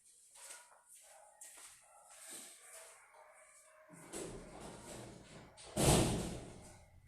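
A house door is shut, landing as a single heavy thud near the end after some quieter shuffling and clatter, with no voices.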